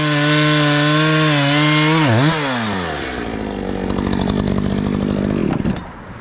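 Chainsaw cutting maple logs at a roadside: the engine runs at a loud high whine, bogs down as the chain bites into the wood, then grinds through the cut with a rough rasp, close up.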